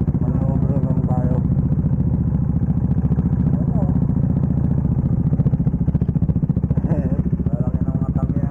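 A motorcycle engine idles steadily and loudly nearby, with a continuous rumbling throb and faint voices underneath.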